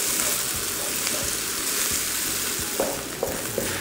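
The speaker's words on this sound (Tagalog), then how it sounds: "Sinasama ko na rin yung white part ng green onion. So, yan. Konting gisa-gisa lang hanggang sa lumambot ito." Green onion whites sautéing in a pan for beef chow fun, a steady close sizzle with faint crackle and a few soft clicks of stirring near the end.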